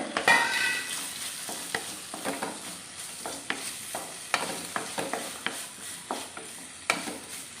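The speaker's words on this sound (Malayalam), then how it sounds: "ഞാൻ ഇത്ര ഇതുള്ളത് കൊണ്ട് അരമുറി തക്കാളി ഞാൻ ഇതിനകത്തേക്ക് ചേർത്ത് കൊടുക്കുവാണേ" Mushroom masala stirred and frying in a pan as half a tomato goes in, with onion and coconut pieces already added; a steady sizzle runs under repeated sharp scrapes and clinks of a spoon against the pan, close and clear, with no talking.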